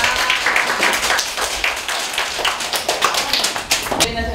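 A live audience breaks into sustained clapping to welcome guests onto the stage, dense and steady applause filling the room for several seconds.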